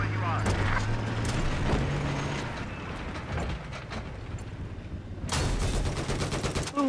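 Bursts of video game gunfire ring out over a steady rumble, with a loud volley near the end, while a player talks over the action.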